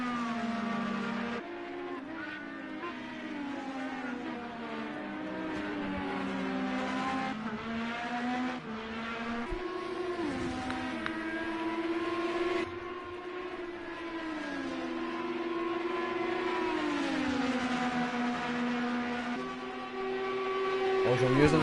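An IndyCar race car in Project Cars 2 runs down the main straight in another car's slipstream, its high engine whine continuous and close, the pitch climbing and stepping between gears while a second engine drones alongside.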